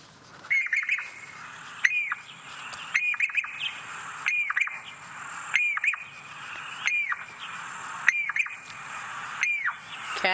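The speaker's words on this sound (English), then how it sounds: "we're going to listen to the Jacobin cuckoo very quickly" A Jacobin cuckoo call plays from a bird app on a phone: about eight loud, sharp, rising whistled notes repeat at a steady, quick pace, each about a second apart, with no speech.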